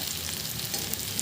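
Tempering for a raw banana fry sizzles and crackles in hot oil, a close, continuous frying hiss with no voices.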